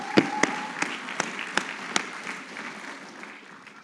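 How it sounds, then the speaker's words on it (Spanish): A church congregation gives a burst of applause. It opens with a few sharp, evenly spaced claps over a bed of dense clapping, then fades steadily toward the end. "Da un fuerte aplauso bíblico como lo hacemos."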